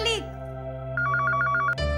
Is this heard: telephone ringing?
yes